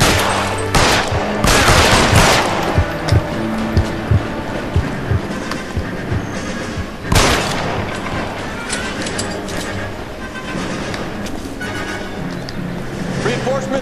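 Gunfire in the video game L.A. Noire rings out in repeated sharp shots and bursts over a loud, busy game mix, with voices talking throughout.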